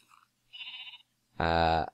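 A Minecraft sheep bleats: a short thin call, then a louder, strongly voiced bleat lasting about half a second, close and clear with nothing else around it.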